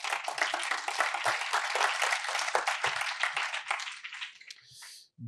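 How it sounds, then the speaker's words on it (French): Brisk applause from an awards ceremony audience honouring Mercedes-Benz as a top advertiser of 2022, a dense close clatter of many hands that holds steady, then thins and stops abruptly near the end. "on les applaudit encore une fois"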